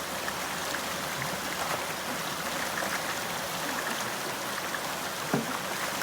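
Water rushes through a Keene A52S Super Sluice gold sluice box as about 45 to 50 pounds of dirt is washed through. The flow is a loud, constant, broad gush with a slight trickling texture and one brief knock near the end.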